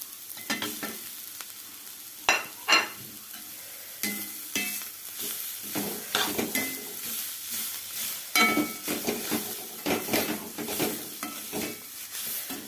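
Cabbage and grated coconut thoran stirred in a hot pan, a quiet sizzle under repeated spoon scrapes and knocks against the metal that come in irregular bursts.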